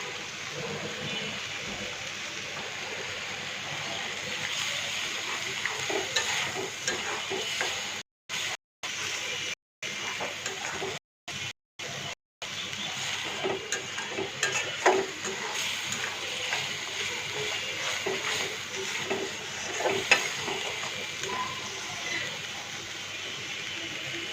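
Prawn malai curry masala sautés in a pan, a steady crackling sizzle with stirring scrapes throughout, broken by a few brief dropouts, close and without speech.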